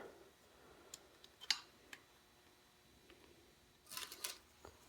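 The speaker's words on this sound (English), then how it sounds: "I have a T25 tool, and I will get these tightened down" Small metal clicks and ticks from a T25 tool tightening disc rotor bolts on a Stan's NoTubes Bravo carbon mountain bike wheel, a few sharp isolated taps then a short cluster of ratcheting clicks near the end, close and fairly quiet.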